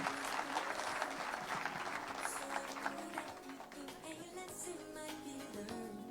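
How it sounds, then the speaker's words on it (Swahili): An audience at a public event in Kitui claps together, a steady dense patter of many hands with some louder individual claps, fairly faint and distant, with a voice briefly audible over it. "Wapigeni makofi tafadhali."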